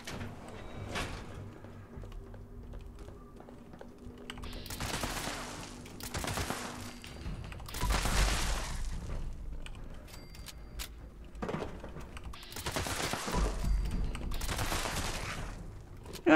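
An anti-armor explosive assault rifle in Fallout 76 fires in repeated rapid bursts, each volley a loud clattering crack, separated by short pauses and mechanical clicks from reloading.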